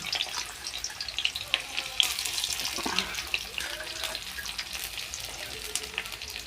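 Onions and marinated chicken hiss and bubble in a pan, a steady wet sizzle with a sudden louder splash of sputtering as ingredients hit the oil, close and without talking.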